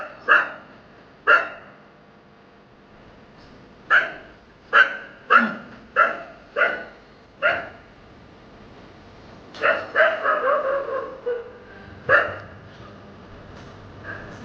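A frightened dog with its tail down barks sharply at a boy, loud single barks spaced out, then a quicker burst of yips and a whimpering tail, with no talking.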